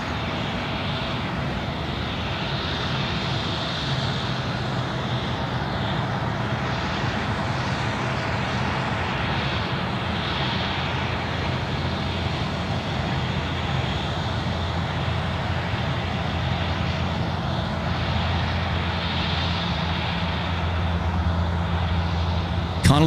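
A Qantas Boeing 737 in Retro Roo livery taxiing out at Sydney airport, its engines a steady broad roar and whine holding for over twenty seconds, heard from a spotting point with no talk.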